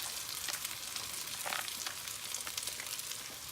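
Rice sizzling steadily in a hot pan for Persian tahdig crunchy rice, a continuous bright crackle with small bursts of stirring, close and fairly loud, with no one talking.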